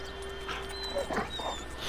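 Chop the dog in GTA gives short whimpering yips and soft barks, close and fairly loud over a low steady background hum.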